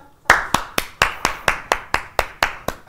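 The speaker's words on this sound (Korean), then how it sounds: "다 같이 박수." Slow, evenly spaced hand claps during a beginner carom billiards lesson, about eleven sharp, close claps in a steady rhythm with no talk.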